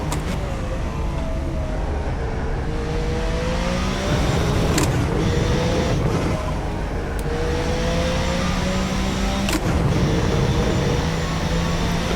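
A Group C race car engine in the rFactor 2 racing game at Spa roars steadily, revving up through gears with short shift breaks and rising tones, loud and close with no talking.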